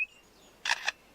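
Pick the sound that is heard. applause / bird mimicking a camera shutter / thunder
bird mimicking a camera shutter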